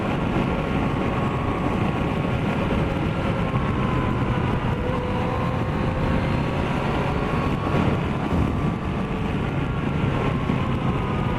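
A Yamaha FJ-09 (MT-09 Tracer) motorcycle engine cruises in third gear, a loud, continuous drone mixed with steady wind rush and road noise throughout.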